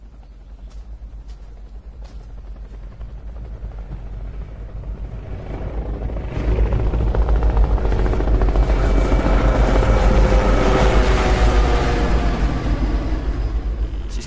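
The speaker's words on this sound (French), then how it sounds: "Qu'est-ce qu'ils font, les hélicos?" Military helicopters flying overhead, a heavy rotor rumble that swells louder after several seconds and holds steady near and loud, with no voices.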